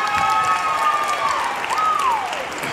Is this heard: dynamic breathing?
no